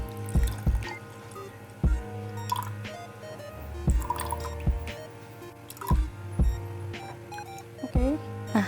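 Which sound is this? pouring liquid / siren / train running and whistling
pouring liquid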